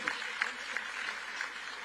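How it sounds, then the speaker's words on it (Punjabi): Audience applause at a public event in Ludhiana, a quiet, distant patter of clapping that carries steadily throughout, with a few sharper claps standing out. "ਤਾੜੀਆਂ ਜ਼ਰੂਰ ਮਾਰ ਦਿਓ ਜੀ"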